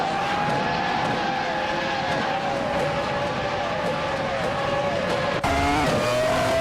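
A Tyrrell 024 Formula One racing car, its high-revving engine a loud sustained whine with shifting tones as other cars pass, then a sudden gear change and rising pitch near the end.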